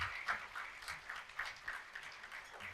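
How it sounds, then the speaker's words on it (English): A conference audience claps in a faint, fairly small round of applause, with steady patter that swells and dips a little and keeps going throughout. "let's give them a round of applause"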